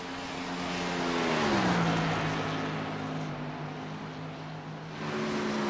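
Sim race cars in an iRacing national series oval race, engines droning loudly with a rising then falling pitch as one passes close, steady engine tone continuing alone.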